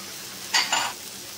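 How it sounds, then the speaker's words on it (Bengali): A yogurt mixture is stirred and sautéed in a pan, giving two short, close scraping swishes over a steady soft sizzle, with no voices. "ভালো করে নাড়িয়ে নিয়ে কষিয়ে নেব"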